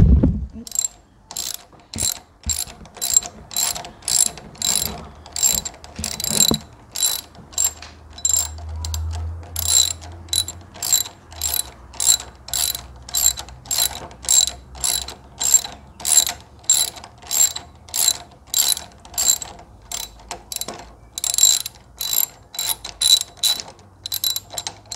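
A ratchet wrench clicks steadily and rapidly while backing a bolt out of a lever on a Kawasaki Ninja 400 motorcycle, the close, even ticks running throughout with no talking.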